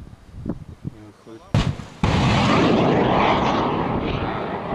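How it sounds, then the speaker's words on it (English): An Adros KT-01AVE system fires a missile at a target 1800 meters away: after a few quiet mechanical clicks, a sharp blast erupts into a loud, sustained roaring rush of the launch that fills the rest of the clip. "Missile start-up was carried out in normal mode after steady capture of the target by the infrared homing head."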